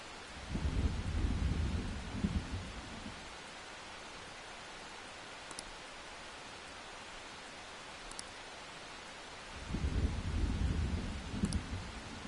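Steady rain hisses in the Persona 5 Royal video game while two deep rolls of thunder rumble, one at the start and another near the end, with quieter stretches of rainfall between them.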